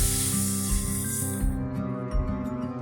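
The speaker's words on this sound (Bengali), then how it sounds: "পরিমাণ মতন জল দিচ্ছি" Water poured into a pan of bottle-gourd kofta curry gives a steady rushing hiss that fades midway, leaving a low sizzle and bubbling close by with no talking.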